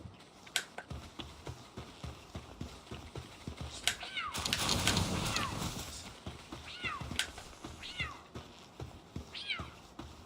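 A pet cat gives several distinct meows from near the microphone, spaced a few seconds apart, with one longer drawn-out call in the middle, while computer keys click quietly underneath.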